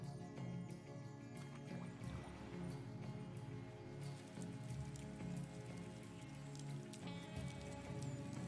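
Huge raindrops fall in a rainforest, a dense, steady patter of drops striking leaves and surfaces with occasional sharper, louder splats, continuous and close, with no voices.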